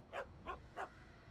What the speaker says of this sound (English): Oh my god, her little doggy.